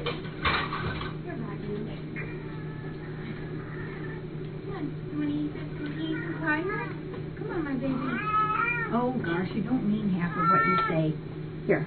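Several cats meow repeatedly at a morning feeding, with rising and falling calls overlapping near and far, while dishes clatter and a person talks throughout.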